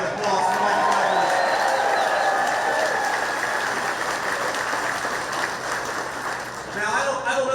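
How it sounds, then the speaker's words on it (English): A large crowd at a political rally in Michigan applauds and cheers for Senate candidate Mike Rogers, a loud, sustained roar of clapping with whoops and voices mixed in, tapering slightly before swelling again. "let's give a round of applause for Mike Rogers"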